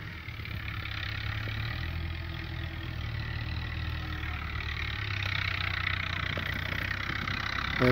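A 1982 Massey Ferguson MF 265 tractor, a 60 hp model, idles with a low, even diesel rumble, heard close and unchanging throughout with no voices over it.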